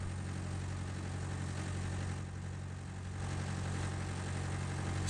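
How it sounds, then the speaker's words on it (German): Radiator cooling fan from a Kühler mod on a truck in Euro Truck Simulator 2, a faint steady whir over the low, constant hum of an idling engine, with no talking. "Und zwar funktioniert der Kühler. Hört ihr das? Das ist der Kühler-Mod."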